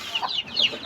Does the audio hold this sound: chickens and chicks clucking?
yes